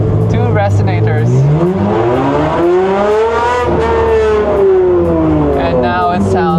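A Ferrari F550 engine with the muffler removed revs hard, its loud raw tone climbing, holding and falling back in one long sustained sweep, with a voice talking over it.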